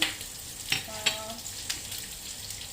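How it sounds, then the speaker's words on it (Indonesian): Garlic and spices frying in a pan for a crispy spicy chicken dish, a steady soft sizzle with a few sharp clinks of a utensil against the pan, close and moderately quiet, with no talking. "Ini bawang putih semua ini spice yang di sini yang digoreng-goreng itu nggak perlu sampai matang sekali"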